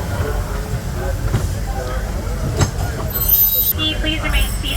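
A Disneyland Railroad steam train rolls along with rumbling, clanking wheels and occasional squeals, heard from aboard the cars, with a voice speaking over the ride noise.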